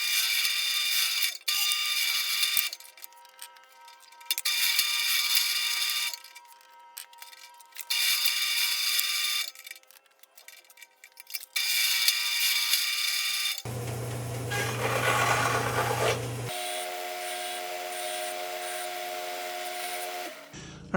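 Power tool trimming the end off a metal handle piece for a hand wheel: loud, high-pitched cutting whine in repeated runs with short pauses, followed by buzzing and a steady tonal machine hum.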